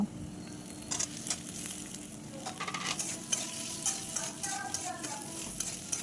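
Fried vegetables stirred in a pan after salt and turmeric go in, a steady crackling sizzle with light scraping strokes, close and unbroken by speech.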